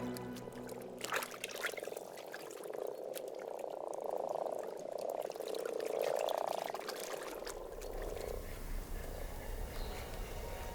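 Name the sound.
frogs croaking in spring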